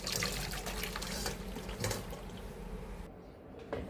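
Hibiscus and powdered clove liquid pours through a sieve, giving a soft, continuous trickling and splashing that stays fairly quiet and close throughout.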